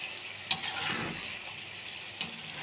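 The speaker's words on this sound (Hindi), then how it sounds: "ये मलाई मैंने इसमें डाल दी है और इसको अच्छी तरह मिक्स कर लें।" Cream stirred into a beef white karahi in a pan, a steady soft scraping and sizzling wash with two sharper knocks of the spoon against the pot, close and continuous.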